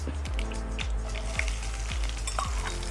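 Sliced shallots and mustard seeds frying in hot oil for a yogurt and cucumber coconut curry, a soft steady crackle overlaid by a low rhythmic thumping roughly every half second, with no talking.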